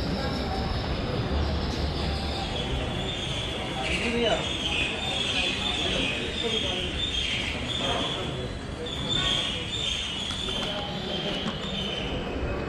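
A train at Chandigarh railway station: a steady, dense rumble of rolling rail cars with faint wheel squeal and clatter, continuous and fairly loud throughout.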